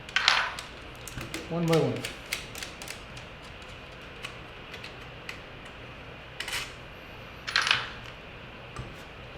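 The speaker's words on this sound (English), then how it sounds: "we'll back them off all the way and set them in our bowl" Small metal banjo head hooks from a Deering Goodtime banjo dropped one at a time into a bowl, a few bright clinks and a short rattling spill, with a voice speaking briefly.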